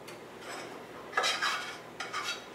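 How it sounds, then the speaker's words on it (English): A utensil stirs a pan of orzo, ground turkey and onion stuffing, making scraping, clinking strokes in short bursts against the pan over a quiet background. "So I'm just going to stir that like that, the orzo, the turkey, and the onion"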